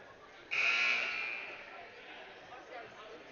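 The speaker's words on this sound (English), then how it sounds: "the second buzzer already rang 30 seconds ago" A loud electronic buzzer sounds once in a high school gym during a junior varsity boys basketball game, a sustained nasal tone that fades out, with crowd murmur and an announcer's voice underneath.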